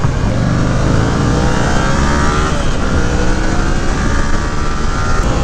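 A 2018 Yamaha MT-07 motorcycle engine drones loud and steady while riding, with a muffled exhaust and a continuous rushing wind layered over it.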